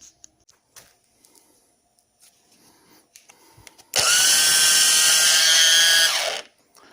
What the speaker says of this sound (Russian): вот такая вот у нас получилась болгарочка на аккумуляторе